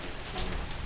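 Steady rain falling outdoors on a wet, slippery walking route, a dense close hiss of drops with no pauses.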